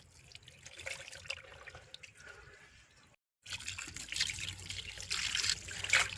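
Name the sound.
water washing cleaned crabs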